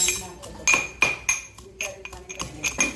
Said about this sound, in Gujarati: હવે આપણે ફટાફટ કૂચરી લઈએ.